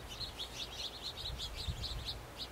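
An oriole calls from a pear tree outdoors, a series of short, bright chirps repeated in a quick irregular rhythm, moderately distant over faint background hiss.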